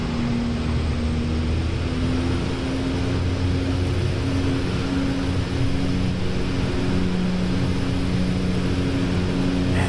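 An OV-10A Bronco twin-propeller aircraft in DCS drones at a steady, loud, even pitch, engine hum and prop buzz holding constant with no breaks.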